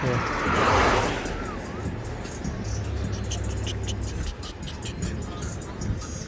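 Street traffic in a trendy shopping district rolls past a pedestrian crossing the road, with a louder vehicle passing close at the start, then a steady wash of engines and road noise.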